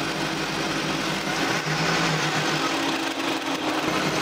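A Chevrolet Avalanche engine idles steadily nearby, its low rumble slightly uneven and lumpy throughout.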